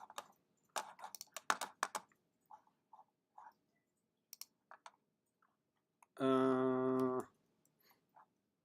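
Dry computer keyboard and mouse clicks tap out an irregular run of quick, close, quiet presses, then a brief steady buzzy tone cuts in near the end.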